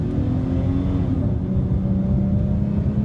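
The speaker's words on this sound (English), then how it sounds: "And when you rev it out," A Dodge Challenger SXT engine revving, a loud sustained car engine roar with a rising whining tone, heard up close and continuous without any talk.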